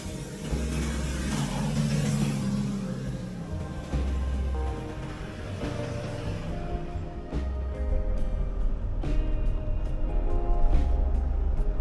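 Vehicles drive on a rough road to Mapanuepe in Zambales, where the route crosses rivers. A steady engine rumble carries throughout, with jolts and rattles from the uneven surface.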